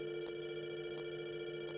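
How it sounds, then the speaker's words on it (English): An in-game telephone rings at a monument in the survival game Rust, a quiet steady electronic tone with faint periodic pulses, heard alone and at a distance. "you can hear it ringing"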